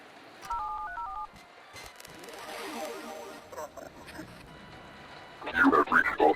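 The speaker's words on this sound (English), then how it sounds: "I dialed the numbers given to us." Telephone keypad tones sound as a number is dialed in the horror video game MOLE, a short run of clear beeps early on, then game ambience and a loud burst near the end.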